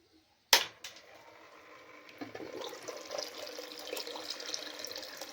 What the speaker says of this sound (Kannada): ನೀರು ಬರ್ತಿದೆ, ತಣ್ಣೀರಿದು.